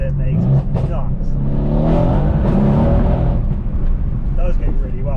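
Tuned 630 bhp Mercedes C63 AMG engine revving hard under acceleration in second gear with traction control off, a loud, continuous rising roar held close for the whole stretch.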